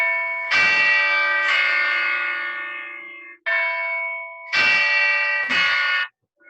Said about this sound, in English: Oh no, bells.